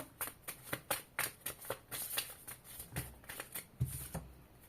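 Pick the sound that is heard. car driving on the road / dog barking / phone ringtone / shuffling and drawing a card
shuffling and drawing a card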